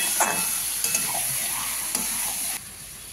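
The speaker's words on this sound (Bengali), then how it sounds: "এবার আমি দিয়ে দিচ্ছি লোটে মাছটা। এবার লোটে মাছটাকে একদম আমি পুর করে ফেলবো, একদম শুকনো করে।" Bombay duck (lote fish) frying in a pan for potol dorma, a steady close sizzle with a few stirring clicks that quietens slightly near the end.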